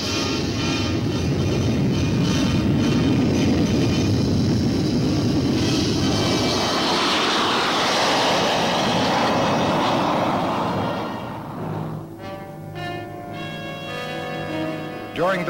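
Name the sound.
U-2 reconnaissance aircraft taking off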